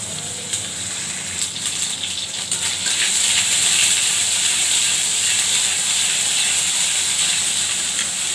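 Ginger sizzles in hot ghee in a pan while cooking a ridge gourd dal, making a steady, close hiss that grows louder partway through and continues throughout, with no talk.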